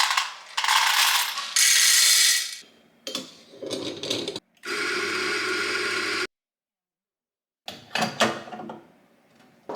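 A home espresso machine grinding and brewing an espresso in a kitchen, with loud bursts of mechanical whirring and rattling, a sustained pumping hum, then a pause and further clicks and clatter, with no talking.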